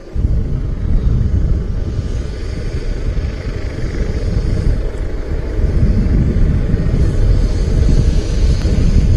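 A helicopter without a tail rotor at Manchester City Airport gives a loud, continuous rumbling drone that builds slightly over several seconds, heard alone with no voices.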